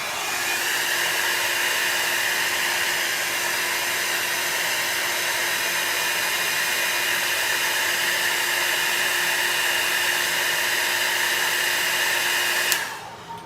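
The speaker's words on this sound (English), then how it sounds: "my dryer keeps getting hung on something down here" Hair dryer blowing steadily on an alcohol ink painting, a constant close whooshing hum with a faint whine, running unbroken for about thirteen seconds before shutting off with a click.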